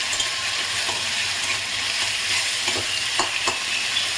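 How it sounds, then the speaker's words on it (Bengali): Onion paste sizzling and frying in hot oil in a pan while being stirred, a steady loud crackle with occasional scraping strokes, no voices. "এবারে দিচ্ছি আমি এই পেঁয়াজ বাটাটা"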